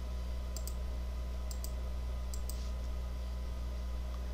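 Three pairs of quick, crisp mouse clicks, spaced about a second apart, come from someone drawing in Adobe Illustrator, faint and close over a low steady electrical hum.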